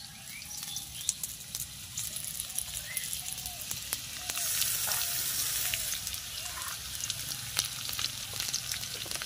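Ground mustard-poppy paste goes into a pan of potato and drumstick already fried in mustard oil. A soft, continuous sizzle is broken by scattered stirring clicks and scrapes, with no talking.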